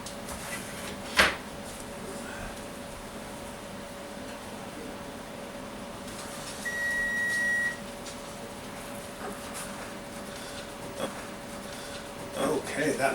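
An oven door clunks open once early on to pull out a baked lemon coconut impossible pie, followed by a long beep and further kitchen knocks against a steady hum.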